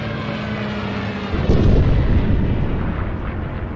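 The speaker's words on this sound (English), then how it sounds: "There's an AT gun or something." A loud, close anti-tank gun blast erupts in the Post Scriptum tank game, a sudden boom followed by a sustained rumbling roar that trails off over several seconds beneath a steady tank engine drone.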